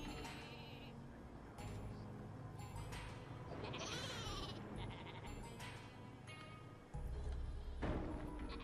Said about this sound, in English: Sorry, sheep in a cage.